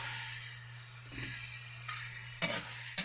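Pork and garlic sauté in a pan with a faint, steady sizzling hiss, broken by a few soft stirring scrapes and two sharper clinks near the end, with no talk.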